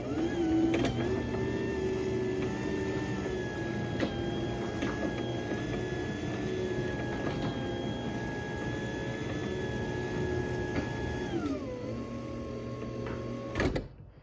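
A LiftMaster 8550W garage door opener lowers an 8x7 Wayne-Dalton 9100 door, a steady loud motor whine and rattle running for about eleven seconds before winding down in pitch and stopping with a clunk.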